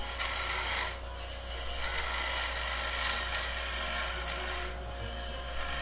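A wood turning gouge makes a scraping cut on a spinning workpiece, giving a continuous rasping, abrasive hiss over a steady low lathe hum, with brief breaks where the tool lifts off.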